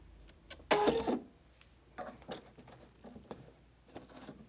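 Sewing machine needle punching through paper in short bursts: a loud rattling run of stitches near the start, then quieter scattered clicks and taps with brief pauses between.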